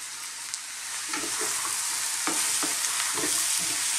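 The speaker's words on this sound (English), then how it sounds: "Let's cook this on a kind of medium to high heat just for about 2 to 3 minutes. Let's get those spices cooked but not burnt." Spices frying over medium-high heat in a pan for potato korma, a steady loud sizzle with scraping stir strokes breaking through at intervals, heard alone without talk.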